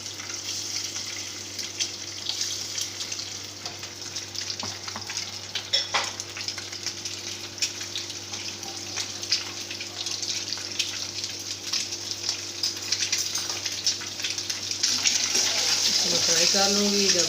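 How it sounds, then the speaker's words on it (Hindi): Boiled eggs fry in oil in a pan with a soft, continuous crackle and hiss that grows a little louder toward the end, while someone talks over it. "तो उसमें इसको मैं फ्राई कर लूँगी।"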